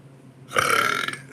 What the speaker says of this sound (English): I just really needed a burp while I was talking